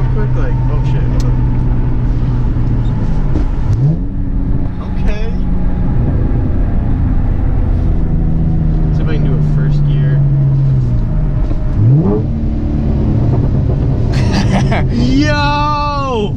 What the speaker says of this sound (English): I just want to listen to this downshift real quick